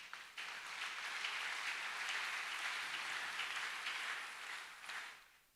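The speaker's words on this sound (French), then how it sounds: "Est-ce qu'on peut acclamer le Seigneur?" A church congregation at a Sunday service clapping for the Lord, a sustained wash of applause that swells quickly, holds steady, then fades, heard at a distance and fairly faint.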